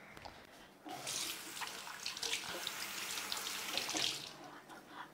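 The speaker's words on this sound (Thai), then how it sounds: "ล้างมือก่อนแป๊บหนึ่ง" Hands washed under a running kitchen tap, water splashing steadily into a sink for about four seconds after a brief quiet start, close and fairly soft.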